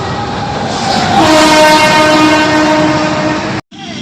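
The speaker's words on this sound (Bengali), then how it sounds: "ট্রেনটা আমাদের চলে এসেছে।" A train pulling into a station, loud close rumble of wagons joined by a long sustained horn blast in the middle, ending in an abrupt cut.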